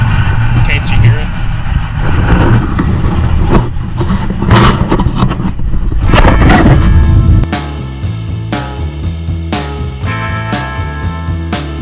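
A 1964 Pontiac Bonneville convertible engine with hot rod parts and a 4-speed revs and rumbles up close, with sharp popping bursts, then settles into a steady drone while a person talks over it.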